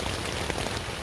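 Heavy rain drums hard and without let-up on a Luxe sil hexpeak V4 tent during wild camping deep in the woods, a dense, close, continuous patter with wind behind it and no voices.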